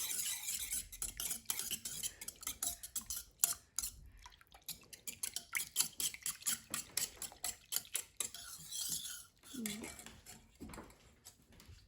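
Pancake batter of egg mixture and cooking oil being stirred briskly in a bowl, producing a steady run of quick clinks and scrapes from the utensil against the sides, with a brief low voice near the end.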